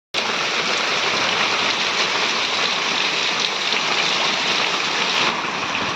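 Heavy rain pours down outdoors in a dense, unbroken hiss that is loud and close, steady for the whole stretch with no voices heard over it.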